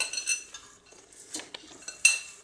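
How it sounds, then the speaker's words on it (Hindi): One kilogram of grated carrots tipped into a metal pressure cooker for carrot halwa, giving soft clinks and scraping taps of utensil against the pot in short, close, quiet bursts. "अब सबसे पहले हम इसको एक कुकर में सारी गाजर हम इसमें डाल देंगे।"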